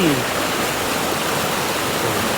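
Stream water rushing through Khiri Wong, a village in a mountain valley in Nakhon Si Thammarat, Thailand, as a steady, loud, broadband flow without break, close by.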